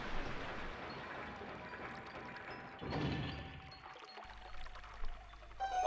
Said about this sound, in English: Raise the water level.